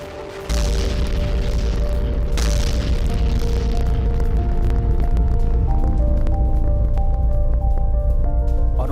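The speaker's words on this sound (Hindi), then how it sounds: "यूक्रेनी ठिकानों पर विध्वंसक गोलाबारी हुई है" Russian MLRS shelling on Ukrainian positions near a road, heard as a sudden loud boom followed by a second blast and a continuous heavy rumbling roar with droning hum, no speech.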